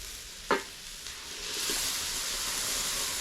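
Ginger garlic paste fries in a pan for an egg curry, opening with a sharp clatter as it goes in. A soft hiss then swells into a steady, close sizzle with light stirring, and no one speaks.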